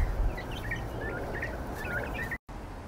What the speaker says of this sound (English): We have 5 turkeys.